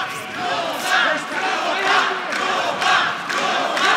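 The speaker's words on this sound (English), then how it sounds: "Here comes the crowd." A crowd cheers and roars at an MMA fight inside a cage at an MFC event in Frankfurt, swelling in repeated loud waves of shouting throughout.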